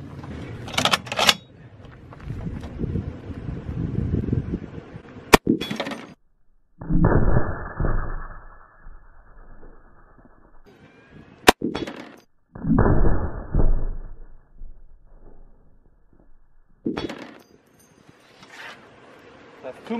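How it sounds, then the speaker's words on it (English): A .50 caliber rifle fired at an 8-inch block of bulletproof glass, with two sharp, very brief cracks several seconds apart between stretches of louder broadband noise and rustling. "Now it started shattering the last glass. Keep in mind, this is 8 inches of glass."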